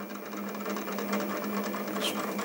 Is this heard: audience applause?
no